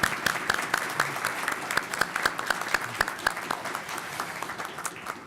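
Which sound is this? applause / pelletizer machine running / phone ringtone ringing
applause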